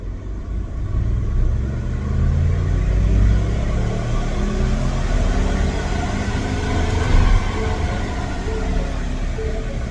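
A Ford F-150 EcoBoost pickup (2021 or newer) running on E40 fuel with a custom tune, accelerating hard on a dyno: a loud, steady engine and drivetrain roar with deep rumble that swells slightly and holds throughout, with no talk.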